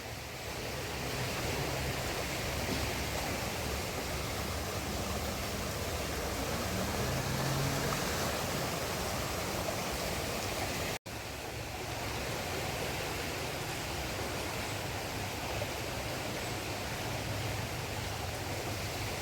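Ganges river in flood at Haridwar, a broad steady rush of water roaring without letup, loud and constant with wind-like hiss, no voices.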